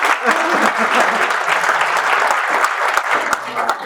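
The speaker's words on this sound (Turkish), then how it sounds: "Alkış! Alkış!" Crowd applause breaks out at an Adana vest ceremony of the Türk Chopper motorcycle club: dense, vigorous clapping from many hands, loud and sustained from start to finish.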